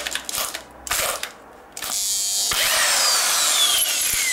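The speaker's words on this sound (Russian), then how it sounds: "Меняю сверло" Someone changes the bit in a drill chuck. Close, crisp ratcheting clicks come in short bursts, then turn into a long continuous whirring rattle as the chuck spins. No one speaks.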